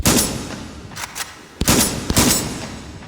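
Gunfire from a firearm in the VR shooting game H3VR, several loud sharp shots in quick bursts with short pauses between, close and without talk.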